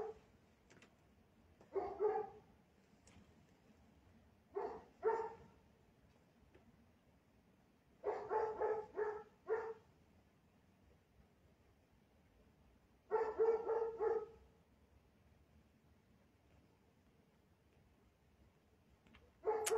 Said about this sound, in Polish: Tak, tylko że on tak mocno szczeka, że mi zagłusza głosy, które były niedaleko.